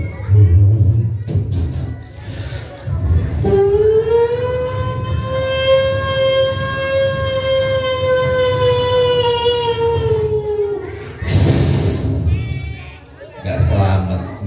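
A single steady siren tone with a rich harmonic stack holds for about seven seconds, rising slightly then falling away, amid crowd chatter and babble with people talking before and after.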